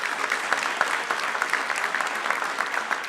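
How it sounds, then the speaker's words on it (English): An audience claps for the teachers at a school graduation ceremony: dense, steady applause from many hands, close and lively, continuing without pause and with no voices over it. "Can you please give your teachers a round of applause?"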